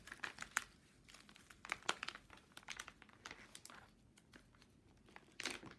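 Perforated cardboard packaging of a Rocketbook Everlast notebook is torn open by hand, giving quiet, close crinkling and tearing crackles with short sharp rips and scattered pops, with no talking.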